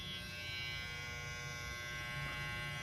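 A Babyliss SnapFX hair trimmer, a 7,200 RPM battery model, runs steadily close by with a continuous faint electric buzz and hum, free of rattle, for the whole stretch.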